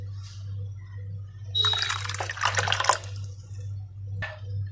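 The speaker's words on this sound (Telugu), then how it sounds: "2 కప్పులు చింతపండు వాటర్ కూడా యాడ్ చేసుకుంటున్నాను దీంట్లో" Tamarind water is poured into a pot of dal with tomato pieces simmering; a soft splashing pour runs for about two seconds over a steady low hum, then a small drip follows.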